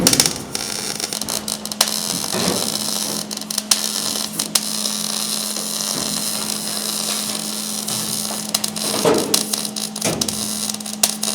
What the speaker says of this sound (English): I'm trying to weld this lower area so that way it blocks it